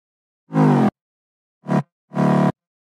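Three short, bright synth stabs on a distorted saw wave in the mid-bass, loud and alone with silence between them, the last two closer together.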